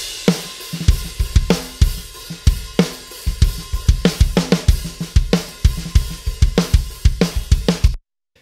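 A Pearl free-floating 14x6.5-inch steel snare drum is played in a fast metal groove with kick drum, sharp repeated hits with ringing wires and cymbal wash, loud and close, stopping abruptly.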